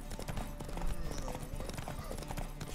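Rapid, continuous hoofbeats from a horse galloping in a horse race in The Witcher 3 game, a steady clip-clop pounding under a voice talking throughout.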